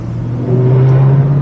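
A TVR Griffith 500 accelerates to pass a tractor, its engine note rising into a loud, steady rumbling drone heard from close by.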